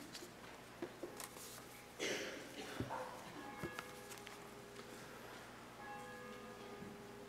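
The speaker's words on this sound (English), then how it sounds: "ring the bell and let the community know we're" A church bell rings to announce the start of a worship service, faint and distant with sparse strokes amid room noise, footsteps and shuffling over about seven seconds.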